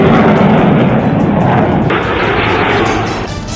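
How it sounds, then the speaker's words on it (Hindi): An Apache attack helicopter at an Air Force Day flypast, a loud continuous roar with no voices. "सबसे खतरनाक युद्धक हेलीकॉप्टर अपाचे की गर्जना सुनाई दी"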